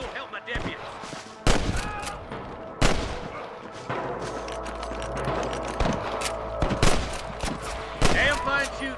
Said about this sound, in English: Watch out! I can hear more gunshots.